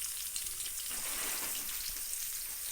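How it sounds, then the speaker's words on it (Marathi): Onion fries in a pan for spiced noodles, giving a steady, soft hiss of oil with faint crackle, close but quiet and unbroken for a few seconds, no voices. "चांगला कांदा फ्राय करून घेते"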